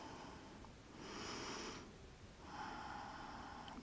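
Slow, airy breaths during yoga child's pose, with two long soft exhalations through the nose drawn out over a couple of seconds each, quiet and close.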